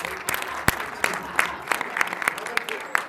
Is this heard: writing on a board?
no